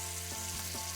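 Shrimp sizzle in a pan with shallot and browned zucchini, giving a steady, faint frying hiss with soft stirring scrapes and no talking.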